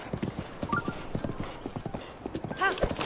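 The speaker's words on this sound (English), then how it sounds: "but I don't know, I still prefer the horse." Horse galloping in the Breath of the Wild video game, rapid rhythmic hoofbeats with a short whinny near the end, close and clear, with a voice talking over it.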